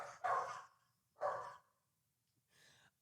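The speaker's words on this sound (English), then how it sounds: "I can hear Farley's barks through the phone" A dog barking through a phone line, two short muffled barks a moment apart followed by a softer third, thin and distant, with no one talking over them.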